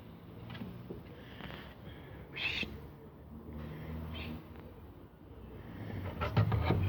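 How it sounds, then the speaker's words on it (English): An owl hoots several times, soft and fairly distant, over quiet outdoor ambience with faint rustling and low background noise. "Your bird."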